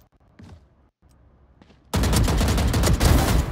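Gunfire in the shooter game Valorant: after a quiet stretch with a few faint clicks, a loud, dense burst of rapid shots erupts and keeps going without a break until the end.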